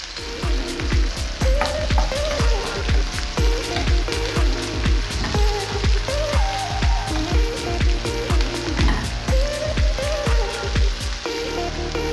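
Onions searing in a hot pan for a rich pork dish, giving a loud, steady sizzle with dense crackling that runs throughout.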